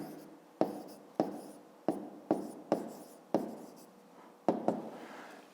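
A pen writes out a math answer on paper in a quiet room, about nine short scratching strokes with pauses between them, near and faint, with nobody speaking.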